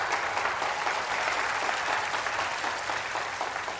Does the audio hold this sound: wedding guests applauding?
yes